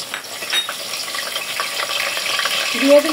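Mixed whole spices sizzle in hot oil in a heated karahi for pulao, a close, steady frying hiss with light stirring scrapes that swells slightly near the end.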